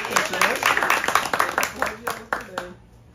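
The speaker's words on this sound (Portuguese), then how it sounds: "Uma salva de palmas para Maria Eduarda" Applause for Maria Eduarda after she reads poetry at an informal poetry gathering, a burst of clapping from a nearby small group, with voices murmuring over it before it thins out and fades.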